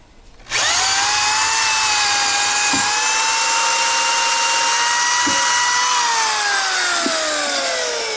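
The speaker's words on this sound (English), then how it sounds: "So a lot to go through to get the whole package drilled." A power drill bores steadily through a stacked package of OSB, steel and wood while framing walls on a trailer, one continuous loud whine that drops slightly in pitch as it loads up, with a few faint knocks underneath.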